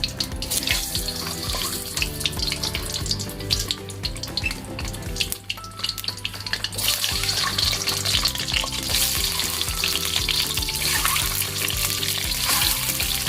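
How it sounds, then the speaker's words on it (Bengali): Boiled eggs fry in a hot pan with salt, giving a loud, dense, continuous sizzle and crackle at close range. It dips briefly midway, then returns stronger, with light stirring and no voices. "এবার আমি ডিমগুলোকে দেব।"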